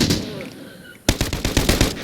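Gunfire in the shooter video game Arena Breakout Infinite: after a lull of faint background, a rapid automatic burst of sharp, loud shots crackles in quick succession for about a second.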